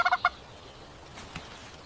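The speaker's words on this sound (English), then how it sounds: "This is a turkey." A single turkey gives a quick, close gobble in the first quarter second, a rapid burst of warbling notes, followed by quiet farmyard background.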